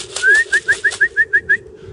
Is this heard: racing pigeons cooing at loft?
yes